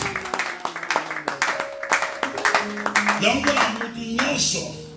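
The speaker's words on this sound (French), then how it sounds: "Acclame très fort pour le Seigneur." A church congregation at a pastor's sermon claps rhythmically and cheers in praise of the Lord, with steady close hand claps under singing and shouting voices throughout.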